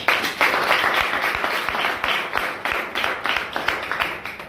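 A crowd at a training session claps in a lively burst of sharp, closely packed hand claps that keeps a steady pace and eases slightly toward the end.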